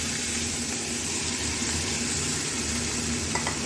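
Grated onion, ginger and green chili frying with cumin in a pan, giving a steady, close sizzle that holds evenly from start to finish with no talking.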